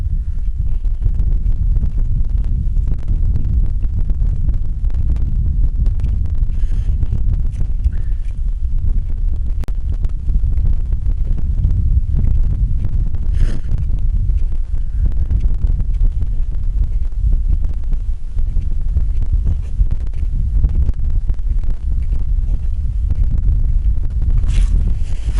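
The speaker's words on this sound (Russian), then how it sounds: "Погода сегодня немножко ветреная." Continuous heavy wind buffeting the microphone on first ice at night, a deep steady rumble with gusty surges throughout, no voices.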